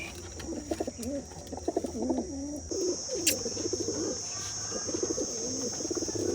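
Pigeons from a prized breeding pair coo repeatedly in a loft, their soft throaty calls overlapping in close, rolling phrases over a steady background hum, with a brief chirp and faint wing rustle.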